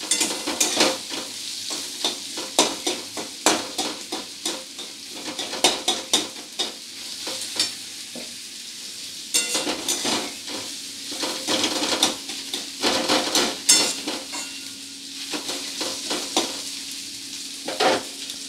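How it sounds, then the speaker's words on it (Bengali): Onion lightly frying in a pan while being stirred for a Bengali small-fish sour curry, a steady close sizzle broken by repeated scraping and clattering stir strokes, with no talk. "তো পেঁয়াজটাকে এরকম হালকা ভেজে নিয়েছি।"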